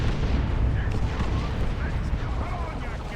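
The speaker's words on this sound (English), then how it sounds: "Tank Buster barraging" A heavy, rumbling barrage from Ork Tank Busters in the strategy game Warhammer 40,000: Dawn of War 2, with dense overlapping explosions filling the clip under a commentator's voice.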